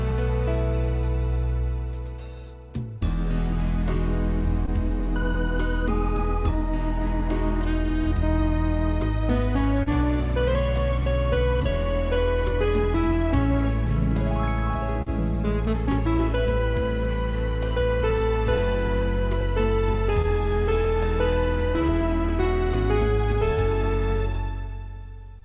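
An arranger keyboard plays a demo of one of its styles, a full band accompaniment with bass, chords and melody that kicks in after a brief start and carries on steadily at a lively level, with no voices.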